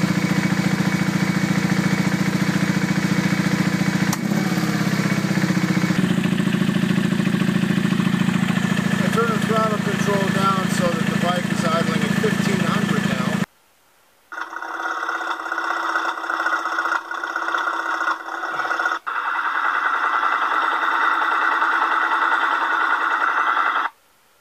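A car engine idles in two separate runs, before and after a DiamondLube treatment, each a loud steady drone with a low hum, split by a sharp cut to near silence.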